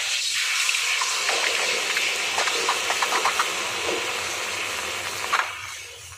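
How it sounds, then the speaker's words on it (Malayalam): Water poured into a hot pan to cook instant noodles, a continuous close rushing pour with light sizzling and bubbling, ending in a small splash before it fades; no talking. "അങ്ങനെ ഈ വെള്ളം ഒഴിച്ചു."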